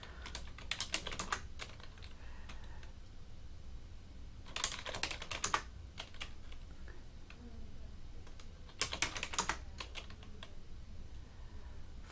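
Typing on a computer keyboard during a Quizlet word game, with three bursts of rapid key clicks separated by quieter gaps, close and moderately loud, no talking.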